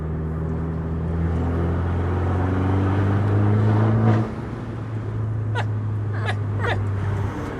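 Abarth 595 Competizione with a 1.4 turbo petrol engine, heard from inside as a steady droning hum that rises, drops back after about four seconds, then holds, with a few faint clicks near the end.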